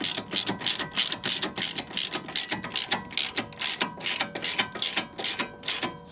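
A hand ratchet tightens the strut bolts on a VW Crafter, fitted with Bilstein B6 front struts. Its clicking comes in quick regular strokes, one after another, close and loud with nothing else over it.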